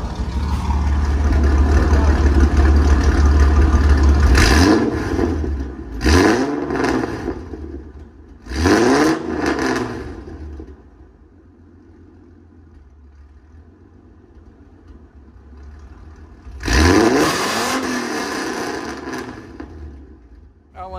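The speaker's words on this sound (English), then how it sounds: "I'll give you guys a couple exhaust clips while we're here" A V6 car's exhaust idles and then revs in several sharp bursts, three short blips followed by a longer rev after a quiet pause, loud and close with a rumbling idle in between.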